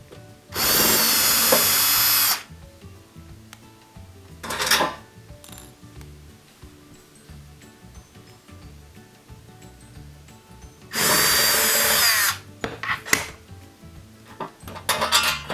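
Power drill backing two Phillips head screws out of a Bosch dishwasher kick panel, two loud whirring bursts of about two seconds each, separated by metallic clinks and handling clatter.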